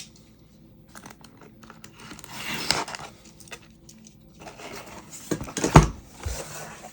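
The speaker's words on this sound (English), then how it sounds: "Let's go ahead and cut the seal." A blade scrapes, tears and crinkles through the seal on the box of a Targus 140W USB-C laptop power bank, close and fairly quiet. The sound comes in brief rasping bursts, with a sharper tearing pull near the end.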